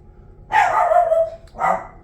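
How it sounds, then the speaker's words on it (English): A dog barks twice nearby, a longer bark followed about a second later by a shorter one, with no talk over it. "Oh, sorry about the dog."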